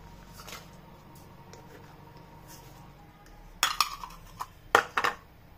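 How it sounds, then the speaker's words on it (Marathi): Quiet room tone, then a few sharp clinks and clatters of utensils against a pan as wood apple pulp and jaggery are added, clustered in two short bursts near the end. "आता कढईत आपण कवठाचा पल्प आणि गूळ टाकून देऊ."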